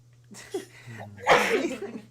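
A single sharp sneeze bursts out mid-conversation in a casual indoor podcast setting, loud and close, with low talk and breathing before it and a faint hum underneath.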